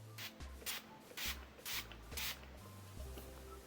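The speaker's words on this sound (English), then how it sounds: "I'm gonna go ahead and spray the last swatch with Urban Decay All Nighter" Several short, soft hissing sprays of Urban Decay All Nighter setting spray in quick succession, each a brief misting burst with small gaps between them, fairly quiet and close.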